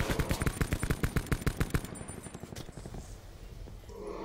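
Rapid automatic gunfire in a Battlefield match on the Alcatraz map, a dense loud burst of evenly spaced shots for about two seconds, then fading to a quieter rumbling battlefield ambience.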